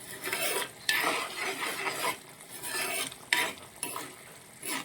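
A spoon stirs a pinch of sugar into green chilli curry in a pan, making repeated scraping strokes in bursts over a low sizzle, close up with no voices.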